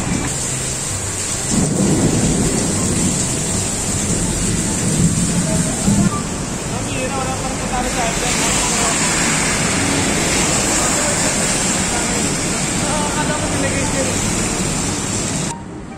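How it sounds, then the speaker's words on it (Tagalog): Heavy rain pours steadily in a dense, loud hiss, with a deep rumble underneath and a brief stronger surge early on. "Andyan na ang ulan."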